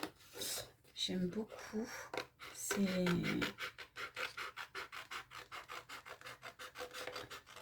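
Scissors roughly cut out a paper tag in quick, rhythmic rasping snips close by, with a few words spoken in French early on.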